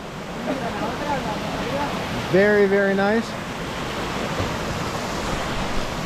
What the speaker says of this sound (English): it appears we've gotten off to check out a few little waterfalls.